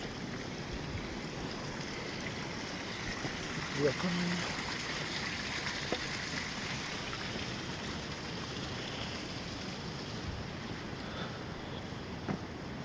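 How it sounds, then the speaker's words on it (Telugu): Stream water rushing steadily on an early-morning Kedarnath trek route, a continuous broadband wash with wind noise at a moderate level and no breaks for the whole stretch. "కానీ వాటర్ సౌండ్ అవి బాగుంది"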